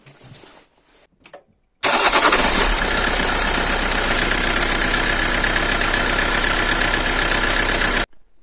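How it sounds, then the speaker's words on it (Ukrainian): After a few quiet clicks and cranking sounds, a 2.2-litre diesel engine in a 2007 Toyota Corolla Verso, with new glow plugs fitted, catches and bursts into life, then runs at a loud steady idle before cutting off abruptly. "Так, запускаємо двигун."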